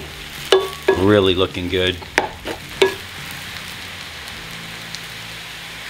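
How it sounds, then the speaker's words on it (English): Onions cooking for a vegan burger sizzle steadily in a hot pan, with spatula scrapes and clanks near the start while someone talks briefly over the crackle. "You can smell the onions are starting to cook up."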